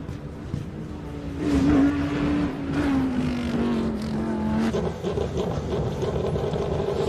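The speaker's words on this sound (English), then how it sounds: "Ricky Giannacaro in his Lamborghini going up here" A Lamborghini race car climbs a hill climb course, its engine note rising as it accelerates through gears, loud at first and fading slightly with distance over constant background noise.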